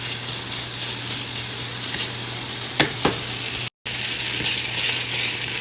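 Beef and garlic stir-frying in a pan without added oil, giving a steady loud sizzle with a couple of sharp clinks from stirring partway through.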